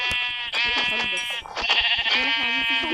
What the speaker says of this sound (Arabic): خروف وخنزير